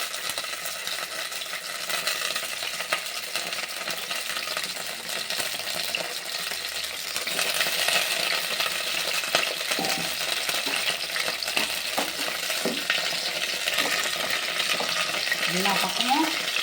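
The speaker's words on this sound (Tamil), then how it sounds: "இப்போ நம்ம கத்திரிக்காயை போட்டுடலாங்க அந்த எண்ணெயில். கத்திரிக்காய் நல்லா வதங்கணும்." Brinjal (eggplant) sizzling in hot oil in a pan for a Tamil-style thokku, with a steady frying hiss, occasional stirring scrapes and clinks growing busier in the second half.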